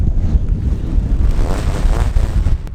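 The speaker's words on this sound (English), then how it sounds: "That's how windy it is up here." Strong wind buffets the microphone in a constant low, rumbling roar, gusting slightly but never letting up.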